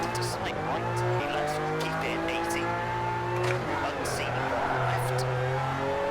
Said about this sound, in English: I feel the tyres scrabbling across the road and gaining and losing traction.